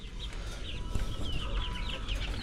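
Backyard chickens, young pullets a few months from laying, cluck steadily near the coop with repeated soft calls over a constant outdoor background.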